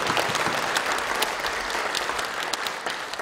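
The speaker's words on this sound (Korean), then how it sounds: "3부 축하 순서를 시작했습니다 하면 박수를 보내시기 바랍니다." A church congregation applauds through an installation service for a pastor, steady dense clapping from many hands filling the room throughout, with no speech over it.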